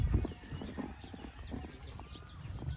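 Horses move about on a farm, their hooves making soft irregular clip-clop thuds at close range, with faint bird calls and low background murmur.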